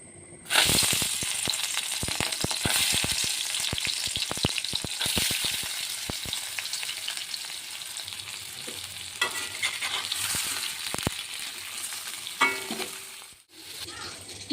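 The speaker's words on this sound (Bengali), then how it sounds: "তেলটা গরম হয়ে গেছে, এবার চিংড়ি মাছগুলো ভেজে নেব" Prawns rubbed with salt and turmeric fry in hot oil for a prawn curry, giving a loud, steady crackling sizzle with sharp pops and spatters throughout, briefly dipping near the end.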